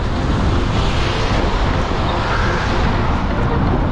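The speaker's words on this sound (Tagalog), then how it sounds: "Ang hangin ang lamig." Strong wind buffets the microphone in a steady, low roaring rush, loud and unbroken.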